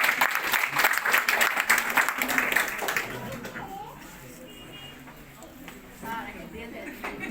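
At a sales award ceremony, a crowd claps loudly for the number one unit manager, the dense applause lasting about three seconds before fading into quieter room noise with scattered faint sounds.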